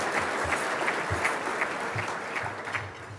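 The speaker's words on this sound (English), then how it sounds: "another round of applause for Kelly" Steady applause from a luncheon audience honoring an award-winning teacher, dense continuous clapping of even loudness throughout.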